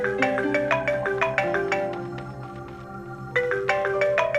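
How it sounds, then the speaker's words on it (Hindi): A melodic mobile phone ringtone plays for an incoming call in a Pakistani drama scene, a bright repeating tune that holds steady and loud, with a brief dip before the melody resumes. "सफिया आपा फोन कर रही हैं"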